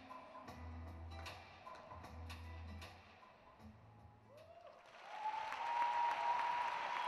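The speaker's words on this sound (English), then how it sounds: "Warm appreciation then from the crowd in the Granada Igloo" An indoor arena crowd applauds a figure skater at an ice rink: faint, steady, rain-like clapping at first that swells louder in the last couple of seconds, heard from a distance with no talk over it.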